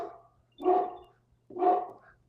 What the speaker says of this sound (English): She's barking right outside my door.